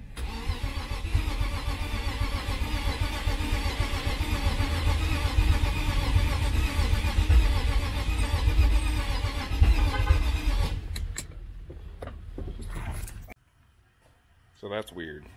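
A BMW E36 sedan engine cranks loudly and steadily for several seconds, catches briefly, then cuts out to near silence before one last short burst, with a person talking over it.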